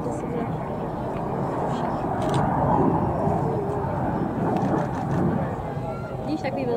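A large airplane roars overhead at the Čáslav air show, a steady broad engine rumble filling the whole stretch while a child and an adult talk nearby.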